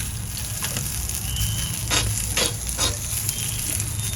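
Sesame seeds sizzling in a pan of garlic-green thecha, a steady frying hiss with a few brighter crackling bursts, close and alone with no talk.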